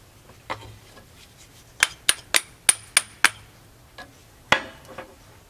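A series of six sharp metallic impacts in quick succession, then a pause and one more hard knock, as a slide hammer strikes its stop pulling a hot part on a 1984 Honda Sabre VF700S motorcycle.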